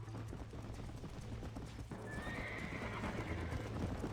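A galloping horse in Red Dead Redemption, with dense, rapid hoofbeats and a neigh over a continuous low rumble of game ambience and background music.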